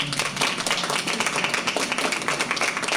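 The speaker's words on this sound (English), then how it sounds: "this round of applause from us up here is for all of you" An audience claps and applauds at an event. The applause is a dense, steady patter of many hands that stays fairly even throughout, with no talking over it.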